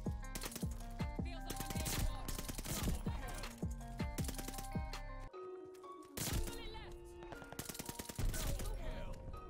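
Rapid bursts of MP40 submachine gun fire from Call of Duty Vanguard gameplay, repeated close automatic volleys with a brief lull midway, loud over a busy game soundscape with no talk.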